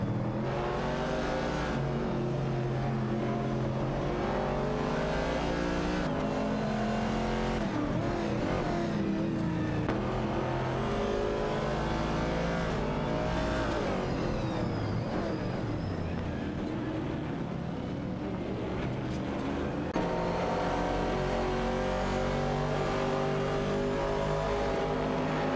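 Race car engines in a racing video game, several cars running together with sustained revving and shifting engine pitch, loud and continuous throughout.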